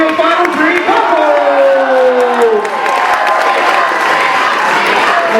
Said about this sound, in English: Make some noise for your final three couples.